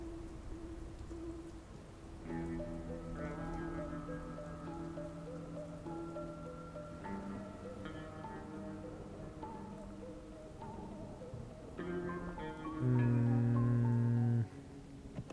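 Heavy rain in the video game Dustland Delivery Sheol, a steady wash of hiss running through the whole stretch beneath louder sustained musical tones that swell near the end.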